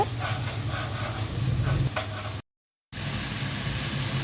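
Masala of turmeric, dried chili powder, salt and cumin fries in a pan with a steady close sizzle and hiss. The sound breaks off in a short silent gap, then resumes.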